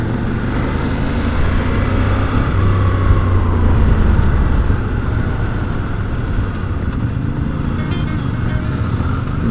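A CF Moto Ibex 800 motorcycle on the move gives a loud, steady engine drone with strong wind rush, holding at a constant pitch for the whole stretch.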